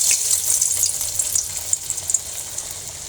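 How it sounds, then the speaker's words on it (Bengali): Croquette-style chops fry in oil in a wok, giving a bright, crackling sizzle with scattered pops. The sound is close and fairly steady, and no one speaks. "কড়াইতে তেল দিয়েছি, আমি এখন চপগুলো ভাজিয়ে নেব।"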